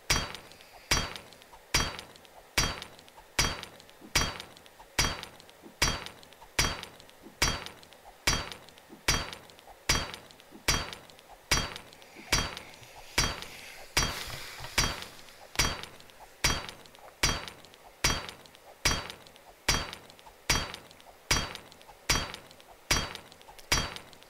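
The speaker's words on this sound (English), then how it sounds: "you were hammering on a gun safe with a rock tied to a stick" A stone tool tied to a stick hammers a gun safe in 7 Days to Die, with sharp metallic impacts repeating at a steady rhythm about once per second, close and loud, for the whole stretch.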